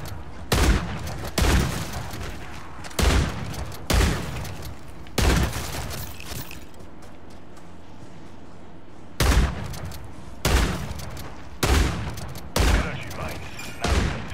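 Mangler gun firing in Call of Duty Modern Warfare 3 Zombies, loud heavy bursts in repeated short volleys with brief gaps, close and dominant, separated by quieter stretches of background ambience.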